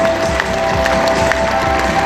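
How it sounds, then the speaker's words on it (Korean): Audience applause at a Korean commemorative ceremony honoring the poet Nogye Park In-ro, a dense, steady clatter of many hands close by, continuous and loud with no talk over it. "힘찬 박수로 맞이해 주시기 바랍니다."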